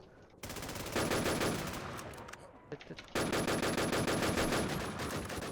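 Rapid automatic gunfire from a shooting video game, loud and continuous in long bursts with a brief lull in the middle, then a renewed sustained burst.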